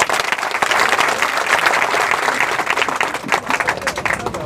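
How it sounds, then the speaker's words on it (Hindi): Audience at an open-air protest sit-in applauding to welcome a BJP youth wing guest, dense continuous clapping from many hands throughout, loud and close. "सभी ताली बजाकर उनका स्वागत करें"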